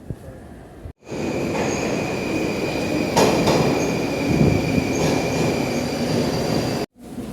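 A metro train runs underground with a loud, continuous rolling roar, clicking wheel noise and high squealing from the rails, cut off abruptly at both ends.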